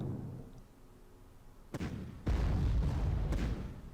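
Tank fire against artillery in the Panzer Corps strategy game: a sharp blast followed by heavy, booming detonations, loud and close, with no talking.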